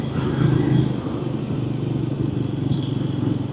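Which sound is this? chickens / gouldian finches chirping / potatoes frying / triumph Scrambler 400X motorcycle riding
triumph Scrambler 400X motorcycle riding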